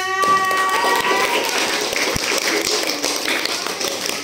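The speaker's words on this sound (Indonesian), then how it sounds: "tepuk tangan untuk semuanya" Fourth-grade pupils in a classroom clap their hands together, a dense, close patter of claps with a few sharp taps, following a brief voice at the start.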